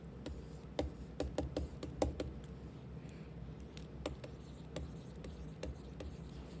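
A pen scratches out chemistry lesson notes close by. Quiet, irregular ticks and short scribbling strokes come in bursts over a low steady room hum, and no one is talking.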